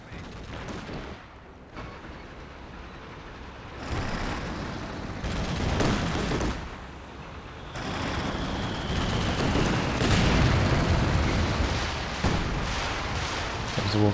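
A walking Stuka dive bomber barrage pounds the ground in the video game Company of Heroes 2, a run of heavy explosions and gunfire rumbling in loud waves over about fourteen seconds, dense and continuous with brief lulls between blasts.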